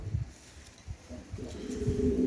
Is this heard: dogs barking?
no